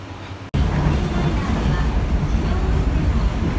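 A driverless automatic train in Japan runs steadily, a continuous low rumble and rolling hum that starts abruptly after a brief pause and carries on evenly, close and fairly loud.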